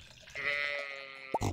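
Goats bleat in the farming video game Stardew Valley: a drawn-out, wavering bleat followed by a short, sharper call, close and fairly quiet with no talk over them.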